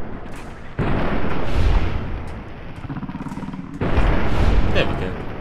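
Gunshots from a weapon in Fallout New Vegas, two loud booming bursts about three seconds apart, each with a lingering rumbling tail, set against a steady game background with no talking.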